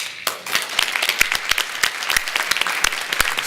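Audience applause for a director at an organisation's report meeting: dense, steady clapping from many hands, close and loud throughout, with sharp individual claps standing out, and no speech.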